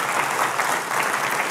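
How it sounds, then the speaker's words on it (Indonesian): A church congregation applauds its group leaders, steady dense clapping from a crowd filling the room at an even level throughout. "Tepuk tangan dulu buat pemimpin-pemimpin."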